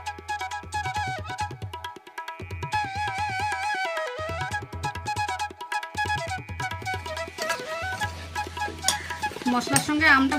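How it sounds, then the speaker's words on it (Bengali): Mango pickle being stirred and mixed by hand with oil and spices, a steady wet scraping and stirring that runs under background music and grows busier toward the end. "এবার ভালো করে মিশিয়ে নেব।"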